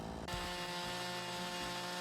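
A chainsaw cuts through a tree in the Campsite Hustle video game, a steady loud mechanical buzz that kicks in sharply after a brief quieter start and holds level to the end, with no talk.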